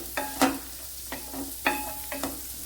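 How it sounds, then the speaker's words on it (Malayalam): Purple and white cabbage is stir-fried in a frying pan while millet noodles cook, with a soft sizzle under several scraping stirs of a spatula in an irregular rhythm. "ഇനി ഇതിലേക്ക് ഞാൻ പർപ്പിൾ ക്യാബേജും വെള്ള ക്യാബേജും എടുത്തിട്ടുണ്ട്. അതും കൂടെ ഇട്ട് കൊടുക്കാം."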